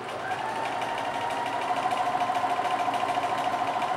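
A sewing machine runs a straight stitch through fabric, with a steady close-up whirring hum and a fast, even rhythmic ticking of the needle that grows more regular toward the end.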